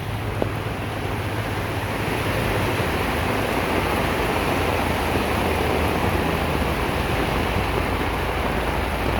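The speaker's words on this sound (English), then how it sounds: "It's not raining, it's pouring." Heavy monsoon downpour in Trincomalee, Sri Lanka, a dense, unbroken hiss of pouring rain that stays loud and even throughout, with no voices.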